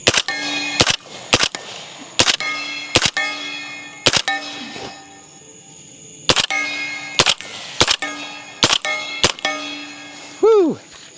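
Subsonic 220-grain rifle rounds fired one after another to empty a magazine outdoors at dusk, a string of sharp, loud cracks with metallic ringing spaced about a second apart, a short voice at the end.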